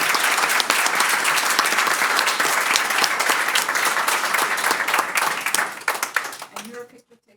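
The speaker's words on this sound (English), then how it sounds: "have a round of applause for" An audience at a school board meeting claps for honored students, a dense burst of applause that holds steady, then thins into scattered claps and fades near the end.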